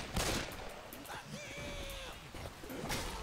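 Gunfire in Left 4 Dead 2: a few sharp bursts of shots through a busy game mix, with chatter and other effects layered over them.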